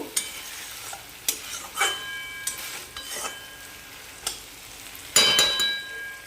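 Mushrooms and a cooked-down spice paste with cinnamon fry in a pan, a steady close sizzle broken by several sharp scrapes and clinks of a spoon stirring, with a louder burst of stirring near the end.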